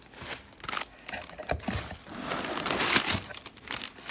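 Protective paper crinkles and rustles as it is pulled away from a Dewalt dual impact train horn, close and moderately loud, with repeated crumpling and tearing bursts and no talk.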